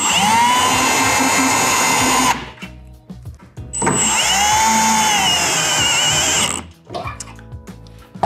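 Power drill drives thread forming screws into bed rack extrusions on a Toyota Tundra, two long whining runs of several seconds each with a pitch that shifts under load, separated by brief clanks and handling noise.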